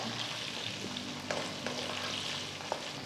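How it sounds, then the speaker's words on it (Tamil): Drumstick pieces sauté in a pan over a medium flame for arachuvitta sambar, giving a steady, even sizzle with a few faint clinks of a stirring spoon. "ஒரு 5 நிமிஷம் மீடியம் ஃப்ளேமில் இது நல்லா வதக்கிக்கோங்க."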